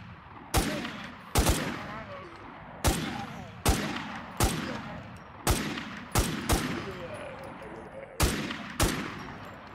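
Bursts of gunfire in the zombie survival game Infestation The New Z, about a dozen sharp shots spaced irregularly across the stretch, each ringing out with a short echoing tail over a low ambient background.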